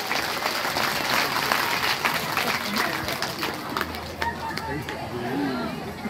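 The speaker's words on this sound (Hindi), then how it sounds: "भाई ताली बजाइए इनके लिए।" Audience clapping at a Ram Katha religious gathering in Banka, Bihar, a dense burst of applause from many hands that thins out after a few seconds, with voices chattering underneath.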